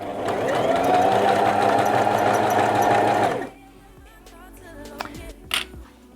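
A home sewing machine runs steadily for about three seconds, stitching the hem of pyjamas, loud and close. It then stops, leaving faint handling clicks and rustles.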